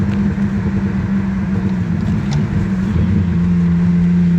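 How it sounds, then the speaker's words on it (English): A Subaru XT6 coupe with a five-speed manual and six-cylinder engine revs during a downshift rev match, giving a loud, close, steady engine drone that climbs in pitch near the end. "Try for a little rev match here if I can."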